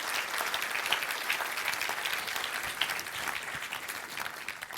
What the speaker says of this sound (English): Save your applause till the end, if you would.